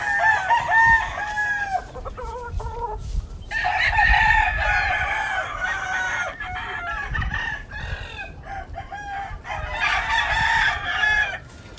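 Several Spanish game-fowl roosters on a farm crow loudly and repeatedly, long ringing calls overlapping one another, with clucking and general barnyard bustle between the crows.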